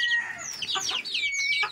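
Young kampung chickens about six weeks old with feathers grown in, clucking and peeping close by in a wire-mesh and plank rearing pen, a busy overlapping flurry of short high calls.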